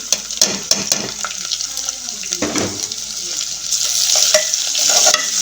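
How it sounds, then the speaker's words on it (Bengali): Chopped onions tip into a pan of hot oil where garlic has browned for a restaurant-style Bangladeshi split chickpea dal, breaking into a loud, steady close sizzle with scattered clinks and scraping stirs. "এখন এই পেঁয়াজ কুচিগুলো আমি ঢেলে দিচ্ছি"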